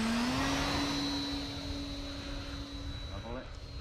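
The electric motor of an E-flite Night Radian RC glider spins up outdoors with a steady rising whine that levels off, under continuous wind noise.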